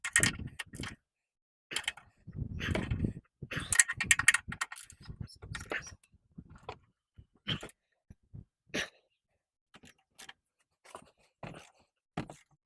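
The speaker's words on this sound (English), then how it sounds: "So now we can tighten those two nuts, 40mm, and the bolt right behind that to attach this motor mount completely to the engine back on." Motor mount bolts on a 1994–2001 Acura Integra are tightened with a ratchet: short bursts of clicking and metallic handling, close and intermittent, separated by silent gaps.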